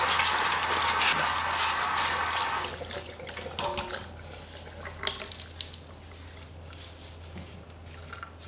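Tap water runs steadily as a hairpiece toupee is rinsed and washed by hand, a close hiss that eases into softer splashing, squishing and dripping as the hair is worked.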